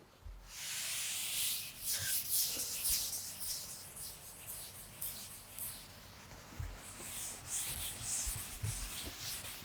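An eraser or duster rubbing out a drawing on a board, giving soft scratchy strokes in an irregular back-and-forth rhythm, close and fairly quiet with no talk.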